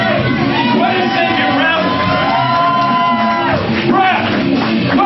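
A wrestling crowd at a CWF Mid-Atlantic event cheers for Brass Monkey, a dense wall of shouts, whoops and yells that holds steady the whole time while a commentator talks over it.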